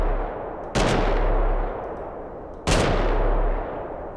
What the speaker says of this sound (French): ensuite, on va tester le sniper AWP